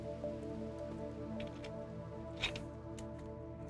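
Light rain patters in the Rimworld colony game, a faint, steady shower over a low droning hum, with an occasional sharper drop standing out.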